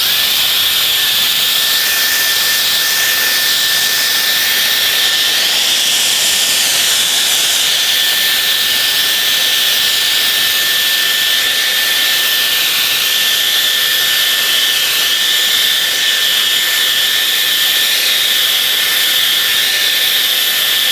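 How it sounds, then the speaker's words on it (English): Dyson Airwrap hair styler blowing air through wet hair, a loud, steady, close hiss with a high motor whine held constant for about twenty seconds, alone without talk. "I'm just going to use the old Dyson Airwrap attachment to see if maybe it'll stick more now that it's wet."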